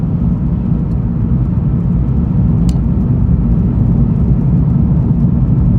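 Car cruising on a Sunday morning drive near Camp Wood, Texas, heard from inside as a loud, constant low road rumble and engine drone with no speech.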